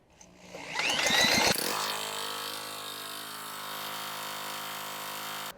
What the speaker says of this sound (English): All right guys, the engine's running pretty good.